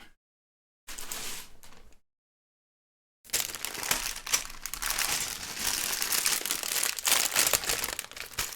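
A plastic Lego parts bag for a DeLorean set crinkles and crumples up close in two bursts, a short rustle followed by a longer, sustained crackling as it is torn open.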